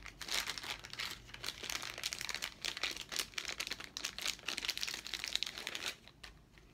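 Plastic bags of board game components for 18 Raxxon crinkle and rustle almost continuously up close, dense crackling handling that eases off near the end.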